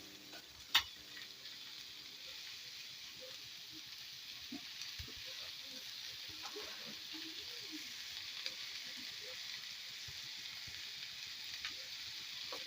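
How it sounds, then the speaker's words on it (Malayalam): Onions sautéing with salt in a pan for Kerala beef roast make a soft, continuous sizzle with faint crackles, marked by one sharp click near the start. "സബോള ഒന്ന് നന്നായി വഴന്ന് വരട്ടെ. കുറച്ച് ഉപ്പിട്ട് കൊടുക്കാം നമുക്ക്."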